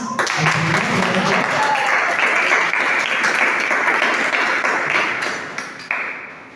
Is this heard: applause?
yes